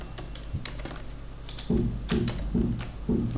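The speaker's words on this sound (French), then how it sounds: "on peut appuyer sur R, donc la lettre R du clavier" Computer keyboard keys are pressed one at a time, close and clear, in a series of about ten separate clicks and taps with a quiet room hum underneath.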